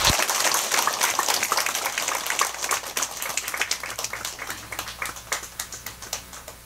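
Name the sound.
audience applause at a Dharma meeting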